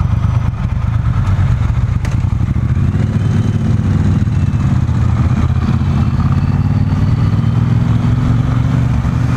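A Triumph Bonneville Bobber motorcycle with stock exhaust idles loudly and steadily close by, a constant low throbbing rumble with a slight rise in pitch toward the end.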